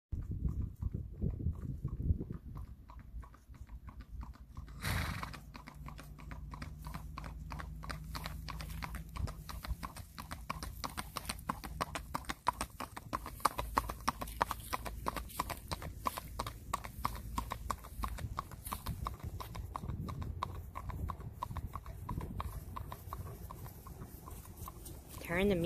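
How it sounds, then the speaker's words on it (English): A strawberry roan racking horse moves on pavement, its hooves striking in a quick, even four-beat clip-clop that continues steadily throughout, with music and talk faintly underneath. "We are going to take him to the pavement so you can see how good this horse gates"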